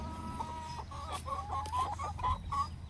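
Chickens clucking close by, a run of short repeated clucks and murmurs over low rumbling background noise.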